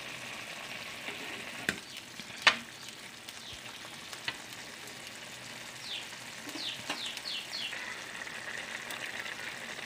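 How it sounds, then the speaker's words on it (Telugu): Brinjal and mango curry simmering in a pan, with a steady soft sizzle and bubbling throughout and a few sharp clinks or taps near the start. "చూసారా మనకి ఈ విధంగా మనకి కూర అనేది మనకి ఉడుకుతూ ఉంది కదండి"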